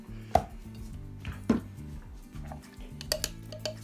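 Knife chopping ingredients for a one-pot artichoke dip on a cutting board, a few sharp, separate chops with quiet pauses between them, close and fairly loud.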